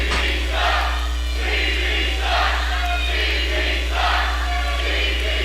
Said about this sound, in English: with the crowd chanting CB sucks